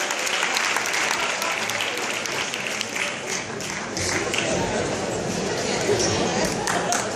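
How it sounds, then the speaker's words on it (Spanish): A big concert crowd applauds loudly and continuously, a thick roar of clapping with some cheering mixed in. "Un aplauso fuerte para Alberto."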